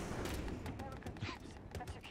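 Rapid video-game gunfire, a full magazine emptied in dense overlapping bursts from a battlefield shooter, loud and continuous across the short span with game noise and a voice over it.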